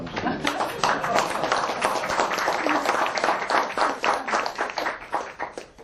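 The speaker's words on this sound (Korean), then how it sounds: "박수 한번 보내겠습니다." An audience at a lecture breaks into sustained applause, dense clapping that stays loud and steady throughout with some voices mixed in.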